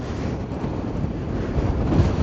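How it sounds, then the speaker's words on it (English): Steady rushing wind buffets the microphone, a dense low roar that swells slightly toward the end, with no voices. "This is windy."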